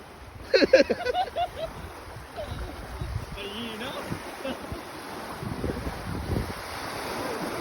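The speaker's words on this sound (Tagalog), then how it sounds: "Ang lakas ng alon." Strong steady surf and wind roar on a Pangasinan beach with a brief splash early on; a few faint voices talk in the background over the rushing water.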